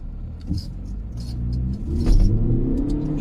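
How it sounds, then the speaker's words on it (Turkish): A 2.0 TDI Audi Q5 accelerates hard, its diesel engine rising in a deep, loud rumble as revs climb through the gears, heard from inside the car. "Hadi şimdi bir kökleyelim de bakalım arabayı."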